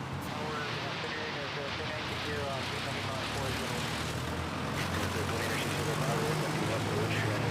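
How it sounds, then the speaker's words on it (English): An ATR turboprop taking off from runway 31 at Manila airport, a steady broad engine roar and drone that holds evenly throughout at moderate distance. "And we just had an ATR takeoff on runway 31."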